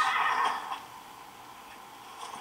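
A horse whinnies in the video game The Elder Scrolls V: Skyrim, a short bright neigh up front that trails off into quiet, with a faint echo of it near the end.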